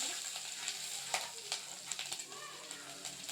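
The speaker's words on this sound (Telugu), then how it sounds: "జీరా వేసిన తర్వాత గ్రీన్ చిల్లీస్ వేసేసుకోవాలి." Cumin seeds and green chillies crackle in hot oil while being stirred for palak paneer, a steady close sizzle with frequent small pops and spatters.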